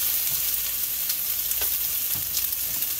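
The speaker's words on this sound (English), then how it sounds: "Gonna let these onions caramelize a little bit along with our green, green pepper." Onions and green peppers caramelize in a hot pan, producing a dense, even sizzle with a few faint stirring clicks, close and continuous.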